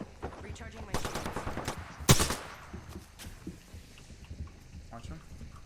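Video game gunfire in a battle royale match, dense bursts of automatic shots with one sharp loud crack near the middle, mixed with game effects and a player talking.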